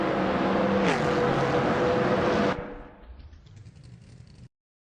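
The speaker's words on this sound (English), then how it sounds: "Oh, look at that Bot Timborghini 2 crossing the finish line first." Race car engine in a racing video game roaring loudly as it crosses the finish line, with a rising pitch sweep before cutting off abruptly into quieter fading engine noise and a high whine.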